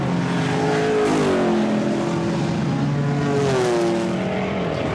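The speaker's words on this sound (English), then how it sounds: "Number 13, that's the red and white AC Cobra, shared with Sean Lynn and Pirot." Historic race car engines at Goodwood's 75th Members' Meeting, with a red and white AC Cobra on the circuit, roaring loudly and continuously as pitch rises and falls through gear changes and passing cars.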